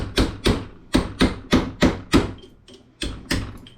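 A hammer strikes a steel punch to drive the copper out of a salvaged Denon receiver transformer held loosely in a vise. About ten sharp, ringing metallic blows come at a fairly even pace, close and loud, with no talk.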